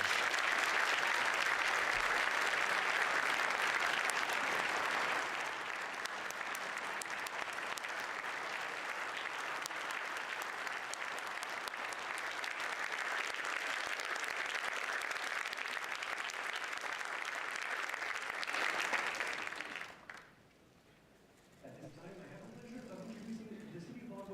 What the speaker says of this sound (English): Please join me in congratulating them with a warm round of applause.